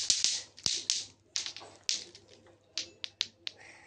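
Indonesian scout clap routine (tepuk pramuka) performed alone: crisp hand claps in uneven clusters, some quick doubles and some spaced singles, close and moderately loud.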